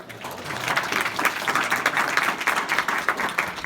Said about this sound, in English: Can we give Brian a round of applause?